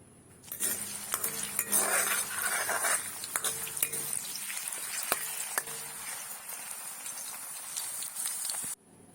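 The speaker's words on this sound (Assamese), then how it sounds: "এতিয়া মাছ ভজা তেলখিনিতে মই আলু কিডোখৰো ফ্ৰাই কৰি লম।" Potatoes frying in oil left over from frying fish, a steady close sizzle with intermittent clinks and scrapes of a utensil stirring in the pan.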